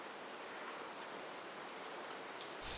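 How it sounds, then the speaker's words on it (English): Steady rain falls, a dense, even hiss of drops with a few sharper patters on a surface, faint and continuous throughout. "Suddenly, it starts to rain."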